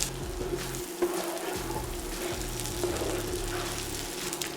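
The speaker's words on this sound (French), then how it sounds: "Je les fais revenir 2 à 3 minutes sur feu moyen en mélangeant régulièrement." Shallots frying over medium heat with brown sugar to caramelize, a steady moderate sizzle with occasional crackles and spoon stirring scrapes against the pan.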